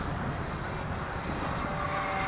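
A Phoenix Dolphin RC airplane makes a high-speed pass nearby, its engine a steady, loud, broadband roar that holds level throughout with no voices.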